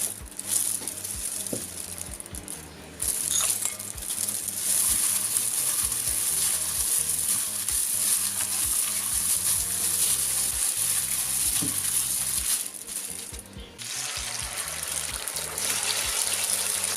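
Homemade crispy batter frying in hot oil, a steady bright sizzle that runs almost continuously, with brief dips and small clinks and stirring noises near and loud.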